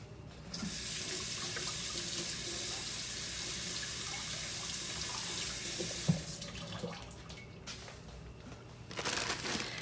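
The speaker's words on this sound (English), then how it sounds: "I'm going to wash the pineapple off my hands." A kitchen tap runs strongly into a sink while hands are rinsed of pineapple juice. The water pours steadily for about six seconds, then stops, leaving faint splashing and handling noises.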